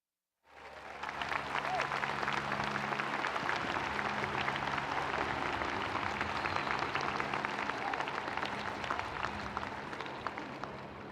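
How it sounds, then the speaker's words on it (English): Sustained crowd applause fills a commencement ceremony, a steady dense wash of many hands clapping that starts abruptly and holds loud and even throughout, with no speech over it. "Please join me in another round of applause for Reid Hastings"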